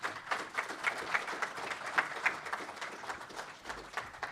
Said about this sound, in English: join me in thanking the panelists here today